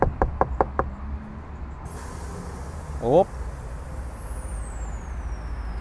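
A VAZ-2172 Priora with four-circuit air suspension drops to its lowest setting: a quick series of sharp knocks, then a long, steady hiss of released air with a slowly falling whine, close by, with a brief spoken interjection.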